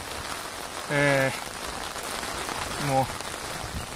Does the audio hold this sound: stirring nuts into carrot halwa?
no